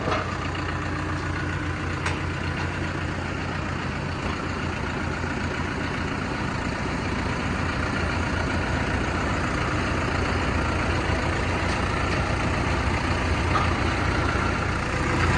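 A Basak 2110S diesel tractor engine running steadily at idle nearby, a constant low rumble that holds unchanged throughout.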